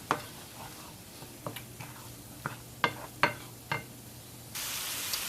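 Onions cook in a soup pot with a low, steady sizzle under scattered sharp clinks and scrapes of a utensil against the pan, ending in a louder hiss.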